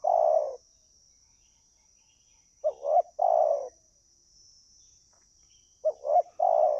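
A spotted dove coos nearby in short, soft phrases, a single call followed by paired calls after pauses, over a faint steady high insect hum.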